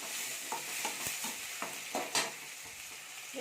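Onion and tomato sautéing in a pan for vada curry, a steady close sizzle with repeated scraping stirs of a spatula, no voices.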